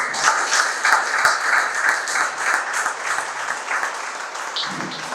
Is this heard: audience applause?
yes